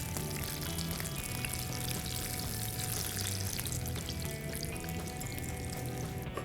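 Jalapeno poppers, large whole ones, deep-frying in hot oil to a golden brown, giving a steady, dense crackling sizzle that carries evenly throughout without any talking.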